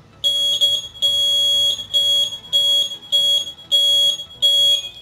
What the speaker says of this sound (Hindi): इनको जैसे ही ज्वाइन करूँगा बजर बजेगा